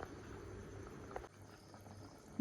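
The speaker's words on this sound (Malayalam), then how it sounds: "കറി നന്നായിട്ട് തിളച്ചിട്ടുണ്ട്" Fish curry simmering in a pan on a low flame, a steady soft bubbling and sizzling that runs throughout, close and fairly quiet, with a brief clatter midway and no voices.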